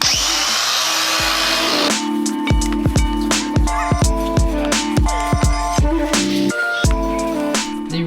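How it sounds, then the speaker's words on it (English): Angle grinder fitted with a rapid strip wheel stripping paint off a BMW E30 subframe, a steady whirring drone broken by repeated harsh scraping bursts of the wheel biting into the metal, loud and close with no talk. "The rapid strip wheel is doing an amazing job, as you can see."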